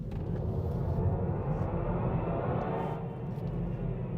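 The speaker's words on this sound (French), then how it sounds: "le début de l'accélération, on a un son qui se rapproche de la voiture originelle de 1959 et ça devient un son de plus en plus futuriste" A MINI Cooper SE electric car plays its retro Timeless acceleration sound, modelled on the original 1959 Mini, as a steady, close, low rumbling drone that holds for several seconds with no talking.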